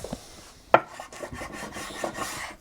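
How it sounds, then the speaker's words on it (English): Tape is burnished down onto a custom Telecaster guitar body with a tool: close, quiet rasping and rubbing strokes in an uneven rhythm, with one sharper scrape early on. "And we'll burnish this down"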